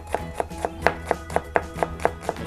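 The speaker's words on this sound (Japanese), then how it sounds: "刃を入れて、みじん切りにしていきますよ" Knife mincing a clove of garlic on a cutting board, with about ten crisp, evenly spaced chops in a steady rhythm, close and clear with no talking.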